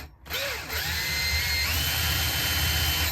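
A power drill whirs steadily as it bores a small starter hole for a bit, part of building a cheap homemade sharpening system for woodturning tools. The motor is close and loud, rising and holding its pitch without pause.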